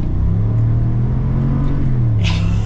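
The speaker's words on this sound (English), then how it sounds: "We're taking another turn here so that we can get a full-blown acceleration." A 2021 Chevy Silverado Black Widow pickup's engine revs up in a full-blown acceleration through a turn, a steady, close, loud low rumble that swells, with a brief tire or gravel burst near the end.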